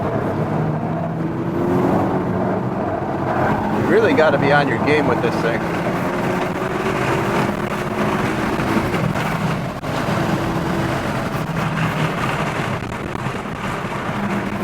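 A 2022 Hyundai Elantra N accelerates around a race track, its engine drone rising and falling through gear changes beneath a driver talking steadily over wind and road noise.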